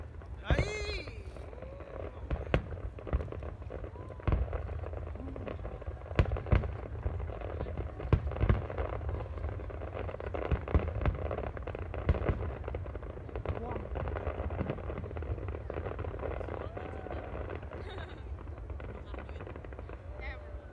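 A summer fireworks display in Korea pops and booms in a long irregular barrage, sharp bangs and crackles at a distance over a broad rumble, with people talking throughout.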